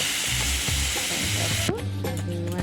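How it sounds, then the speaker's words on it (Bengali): About 200 g of peeled prawns fry briefly in oil in a pan, giving a loud, close, hissing sizzle that drops away after under two seconds as a voice takes over. "মাছটা ভেজে নিচ্ছি খুব বেশি কিন্তু ভাজবো না"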